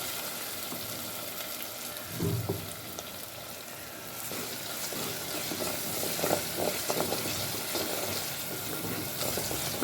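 Ingredients for a fish curry sauté in a pan, making a faint, steady sizzle with a low bump early on and a few soft stirring scrapes later.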